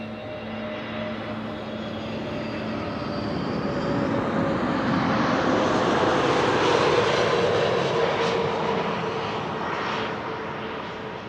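An SAS Airbus A320neo arriving from Oslo at Amsterdam Schiphol swells in from a distance, its engine roar and whine building to a loud pass overhead before slowly fading. No one speaks.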